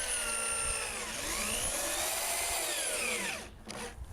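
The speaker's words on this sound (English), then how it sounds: "I pre-drilled and countersunk holes as shown here and drove deck screws into the 2x3s" A power drill drives deck screws into 2x3 lumber while a wooden raised garden bed is being built, one steady, close whine that rises and falls in pitch as the screw bites, then cuts off near the end.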